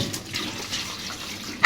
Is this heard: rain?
no